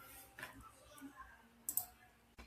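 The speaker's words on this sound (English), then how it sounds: "Let me click." A couple of sharp computer mouse clicks, faint and isolated, made while adding glyphs to rhinestone design templates, with quiet room tone between them.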